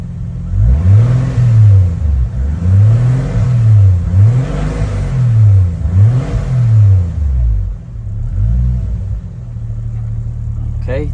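A 1989 Toyota Supra MK3 with a 7MGTE engine and a stored Code 52, running around 2,000 RPM: loud, close engine drone that swells and dips in a steady repeating rhythm roughly every second and a half, then settles into a flatter hum near the end.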